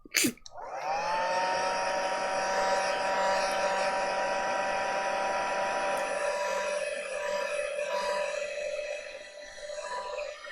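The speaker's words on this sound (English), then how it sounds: "So I'm just going to take my hairdryer, excuse me. No, it's not. It's one of these. It's heat gun." A heat gun starts with a click and blows with a steady, loud electric whir and airy rush for about ten seconds, then winds down slightly.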